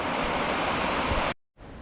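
Rushing whitewater at Big Shoals on the Suwannee River, where the river drops nine feet in under a quarter mile, makes a loud, steady broadband roar that cuts out abruptly, then returns more softly.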